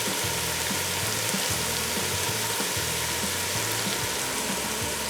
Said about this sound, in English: Ooh, that sizzling sound